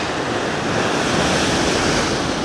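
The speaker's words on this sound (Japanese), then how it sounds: "この今大きいね、波が入って" Big ocean waves breaking on a rocky shore during a fishing trip, a loud, dense, continuous roar of surf and spray with wind, and no voices.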